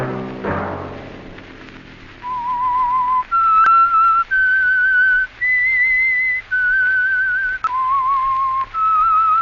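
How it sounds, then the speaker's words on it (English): A melodic whistled theme tune from the radio mystery program The Whistler, clear and steady, a short series of held notes stepping up and down, following a brief low resonant opening. "Let that whistle be your signal"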